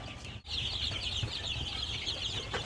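Many young chicks peep continuously in a brooder on fresh rice hull bedding, a dense, steady chorus of high chirps that stays close and fairly loud throughout.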